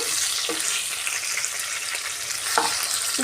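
Stuffed bitter gourd sizzles steadily in a frying pan, with a few scraping stirs at intervals over the constant hiss of hot oil.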